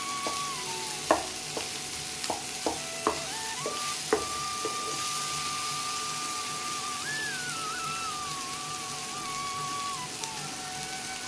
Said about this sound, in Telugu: టమాటాలు కూడా మగ్గేంత వరకు కలుపుకుంటూ చక్కగా ఫ్రై చేసుకోవాలి